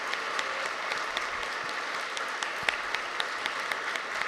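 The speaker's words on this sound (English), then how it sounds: "If we could give them a round of applause for all of their help." An evening poetry reading audience applauds the volunteers, steady moderate clapping from a crowd with a few sharper individual claps standing out, heard at some distance in the room.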